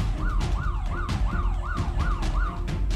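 A mobile phone's anti-theft alarm siren whoops loudly up and down in a fast, regular electronic cycle, repeating about six times over a low background rumble.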